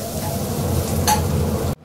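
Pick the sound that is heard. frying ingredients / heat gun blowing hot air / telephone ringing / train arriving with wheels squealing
frying ingredients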